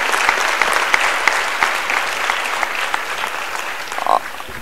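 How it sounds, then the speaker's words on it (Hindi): A large audience at a motivational speech event in Nagpur breaks into loud, sustained applause, a thick steady roar of clapping from many hands that continues throughout. "तो सर के लिए भी एक बार जोरदार तालियां होनी चाहिए।"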